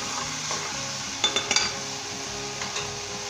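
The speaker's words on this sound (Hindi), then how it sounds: "जस्ट हमने इसे 1 मिनट के लिए फ्राई करना है" Maggi instant noodles with vegetables frying in a pan, a steady sizzle with a few quick utensil clinks and scrapes near the middle, close and moderately loud, with no talking.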